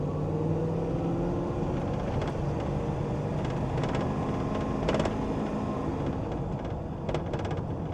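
A car running a Holley Terminator X Max ECU on a front-wheel-drive LS build rumbles continuously and fairly loud, with a dense low drone and faint mechanical ticks over the top.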